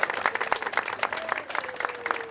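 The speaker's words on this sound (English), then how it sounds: "That deserves a round of applause." Crowd applause at a Fourth of July celebration for the nation's 250th anniversary, sustained clapping from many hands at moderate distance with scattered cheering mixed in.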